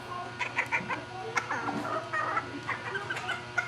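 Labuyo bantam chickens clucking close by in a steady run of short, scratchy calls, several birds overlapping at moderate volume with no talk over them.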